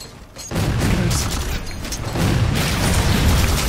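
Grenade blasts in Halo 4: a sharp boom after a brief quiet lead-in, then rumbling explosive bursts that keep rolling and swell again toward the end.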